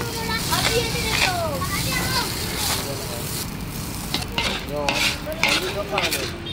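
Nasi goreng being stir-fried at an Indonesian eatery, with repeated scraping strokes of a spatula against the pan and sizzling underneath, while people talk and other voices carry in the background.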